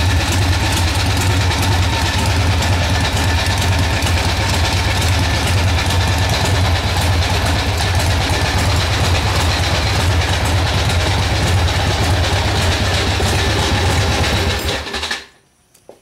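A 1981 Harley-Davidson Ironhead motorcycle engine warming up at idle, a loud, steady low rumble that runs unbroken until it cuts off near the end.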